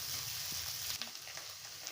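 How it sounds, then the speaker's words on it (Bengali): Fish pieces fry in hot oil in a pan, giving a steady, close crackling sizzle that runs throughout with small pops and no talking. "এই তো মাছগুলো ভাজা হচ্ছে, এখনো হয় নাই, একদম কড়া ভাজি দিয়ে নিব"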